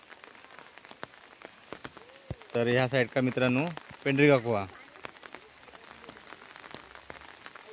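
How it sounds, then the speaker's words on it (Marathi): Light drizzle patters steadily on an outdoor village scene in Manche, Devgad, after afternoon rain, a soft continuous hiss of fine drops running throughout while someone talks briefly in the middle. "आता पण मित्रांनो थोडं थोडं ना बारीक बारीक पाऊस पडता."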